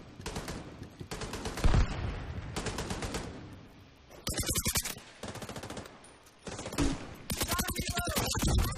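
Loud bursts of automatic gunfire from The Division 2 repeat in rapid rattling volleys with short gaps between them, close and dominant throughout, with no talk.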